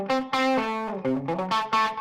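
An electric guitar through a Maxon compressor pedal plays a quick run of sustained, even-volume notes with a thick, driven tone, each attack squeezed smooth.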